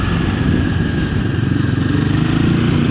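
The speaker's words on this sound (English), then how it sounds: "It's a nice torquey engine." Dirt bike engine pulling hard at low revs, a loud, close, throbbing motorcycle drone with steady rapid pulses throughout, strong torque evident and no voices.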